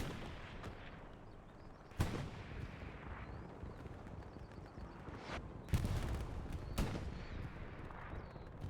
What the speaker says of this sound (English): The first Katyushka strike coming in from the Allied side.